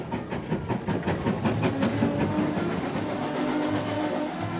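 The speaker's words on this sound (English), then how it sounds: "The engine is now exhausting, so you can hear the typical chuff-chuff of a locomotive." Steady rhythmic chuffing of a steam locomotive on the Dartmouth and Torbay Railway, with a continuous rumble and faint clatter underneath, close and fairly loud throughout.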